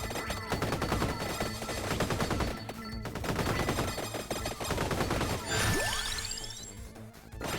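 Rapid spread-shot weapon fire in Vampire Survivors on PS5, a fast continuous stream of overlapping shots and hits, loud and dense, joined near the end by rising and falling pickup chimes.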